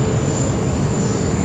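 An airliner takes off from runway 16 right at Sydney Airport, heard as a loud, steady, broadband engine roar with a thin high whine, continuous throughout and without talk.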